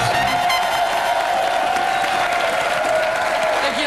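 A French television studio audience applauds a singer on a live talk show, sustained clapping with some cheering under a steady musical tone.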